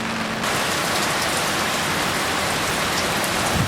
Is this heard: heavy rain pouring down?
yes